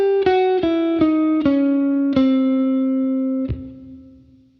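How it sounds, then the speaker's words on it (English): An electric guitar with distortion plays six separate notes stepping down a diminished scale from C, each struck cleanly, the last one ringing out and slowly fading. "So I'm going to play down the scale from C. It's going to sound like this."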